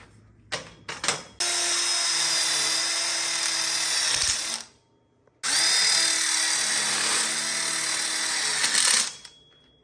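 A power drill drives screws into the metal tubes of a 4-foot outdoor kitchen module frame, giving two long, steady whining bursts preceded by a few short trigger taps, loud and close with no talking.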